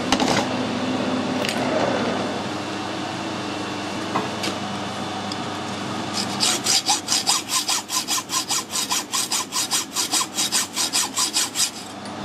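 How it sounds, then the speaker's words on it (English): Hacksaw cutting through a steel offset pin in a machining workshop: after some quiet shop noise, a steady run of about twenty rhythmic back-and-forth rasping strokes, close and fairly loud. "I'm going to cut that off with a hacksaw."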